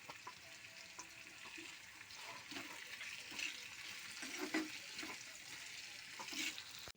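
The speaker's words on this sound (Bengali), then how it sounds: "পেঁয়াজটা ক্যাপসিকামটা ভাজা ভাজা হয়ে এসছে, এবার এর মধ্যে দিয়ে দেবো একটা টমেটো কাটা।" Onion, capsicum and tomato fry in a pan: a soft, continuous sizzle broken by irregular scraping stirs of a spatula, faint and close, with no voices.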